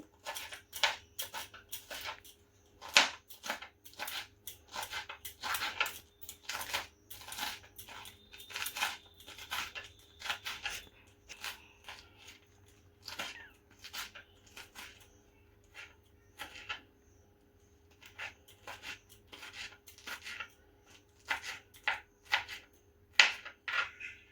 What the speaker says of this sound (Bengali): লঙ্কাটা আমি কুচি কুচি করে কাটছি